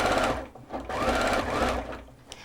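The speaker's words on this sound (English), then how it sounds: "sew round the armhole, removing the pins as you go" A sewing machine stitches an armhole seam on a child's dress, its close, steady whirring needle run easing off briefly before resuming at an even pace.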